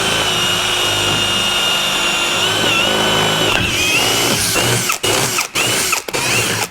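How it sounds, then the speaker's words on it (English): A power drill runs a bit through the worn rubber bushings of a Land Rover LR4, whining steadily at high speed before stopping and starting in short bursts near the end. "a drill bit down a couple times"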